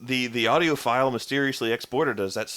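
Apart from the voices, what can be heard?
No distinct noise like a dog, phone or traffic.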